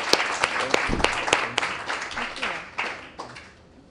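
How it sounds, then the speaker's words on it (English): Applause from an audience at a book event, scattered sharp claps that thin out and fade toward the end, with a voice speaking briefly over them. "But just join me in giving a round of applause for."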